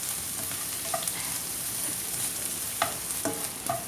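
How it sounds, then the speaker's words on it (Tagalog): Squid adobo with chopped garlic stir-fries in a pan with a soft, steady sizzle, broken by a few light taps and scrapes of the spatula. "so we'll just again stir fry this all together until it is fully cooked"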